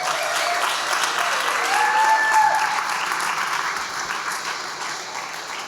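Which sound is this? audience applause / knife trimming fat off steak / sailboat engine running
audience applause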